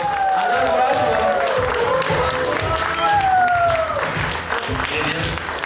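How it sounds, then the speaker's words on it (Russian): Audience applause welcomes the first Kazakh woman to climb Everest at an indoor event, dense steady clapping throughout, mixed with crowd noise and a voice speaking over it. "я прошу вас аплодисментами встретить первую казашку, зашедшую на Эверест"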